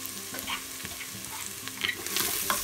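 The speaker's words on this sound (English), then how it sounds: "fry until golden brown" Ginger garlic paste frying with chopped onion in an Instant Pot, a soft, steady sizzle close by with scattered stirring scrapes and light clicks, and no voices.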